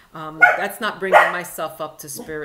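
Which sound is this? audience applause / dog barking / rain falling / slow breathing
dog barking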